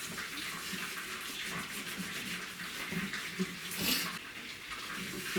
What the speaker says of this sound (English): Just going to use a little bit of water here